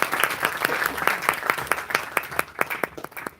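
An audience at an International Mother Language Day event applauds with a crisp run of distinct, evenly spaced claps that rings out close and thins toward the end, without any voices.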